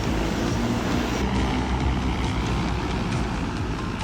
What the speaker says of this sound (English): Here's a real human-sized drone, almost like a futuristic flying car. It rises powerfully above the ground,